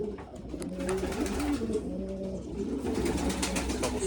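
Racing pigeons in a loft, including Barcelona grizzles from Spain, coo steadily in overlapping low rolling calls, close and continuous against a busy background of wing shuffles and rustling.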